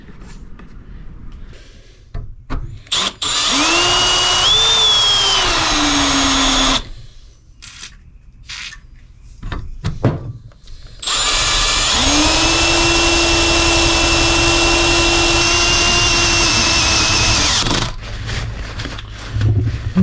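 Power drill boring holes through a seat bracket for bolts while installing new seats in a Pontiac LeMans: two sustained whining runs of several seconds each, loud and close, separated by clattering handling noises, with no talk.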